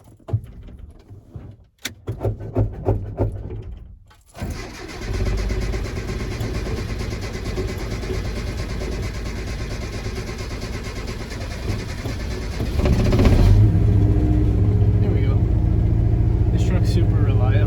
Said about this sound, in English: we gotta see if my truck's gonna start because it's been sitting for like 2 weeks